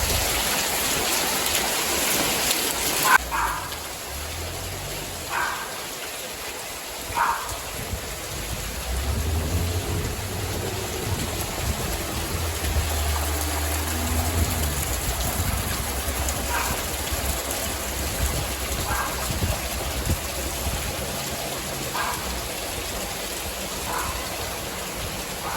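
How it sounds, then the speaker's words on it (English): Steady rain pours down around a house under construction in Thailand, a dense continuous hiss with occasional heavier drips and splashes, loud and unbroken for the whole stretch with no one speaking. "look at the rain now"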